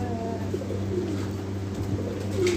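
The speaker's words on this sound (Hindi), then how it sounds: "तो ये कहीं यहीं कहीं पेड़ में कबूतर है" A pigeon coos from somewhere inside a tree, giving soft, low, repeated coos over steady outdoor background hum at moderate distance.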